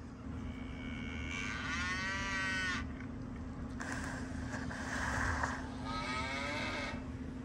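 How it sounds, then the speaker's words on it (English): A recorded cow lets out several long, drawn-out moos, separated by short pauses and played back over a steady low background hum. "Is that a cow? A moo-moo?"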